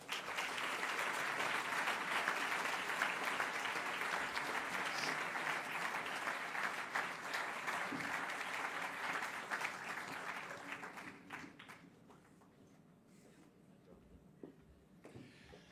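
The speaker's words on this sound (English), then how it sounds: "Ladies and gentlemen, a warm applause for Christian Nielsen." An audience applauds a graduate being introduced, with dense, sustained clapping that holds steady for about ten seconds and then thins out into a few scattered claps.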